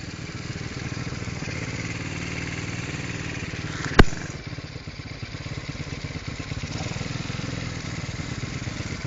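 An ATV engine drones loudly and steadily up close while riding, with one brief sharp knock partway through.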